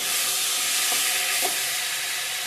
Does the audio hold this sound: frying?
yes